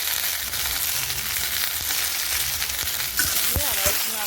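Okra and potato frying in hot oil with onion and green chilli, a continuous moderate sizzle with occasional stirring clatter and a few short utensil knocks near the end.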